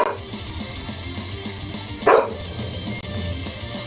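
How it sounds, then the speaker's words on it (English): A dog gives one short bark amid continuous background noise, close and moderately loud. "What's wrong with you, dog?"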